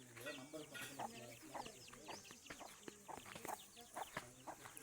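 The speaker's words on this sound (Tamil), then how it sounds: "கோழி குஞ்சுகளையெல்லாம் கூட்டிகிட்டு ஓடுது பாருங்கள்" A hen clucks repeatedly in short bursts close by as she runs with her chicks, with faint peeping and other farmyard sounds mixed in.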